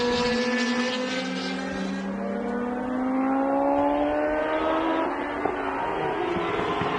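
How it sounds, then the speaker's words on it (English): Historic racing cars, including Formula 1 and 1960s machines, are wound up on track at the Montjuic circuit; a loud engine note rises and falls in pitch as cars pass, continuous and fairly close. "So great to hear these cars starting to be wound up a little more"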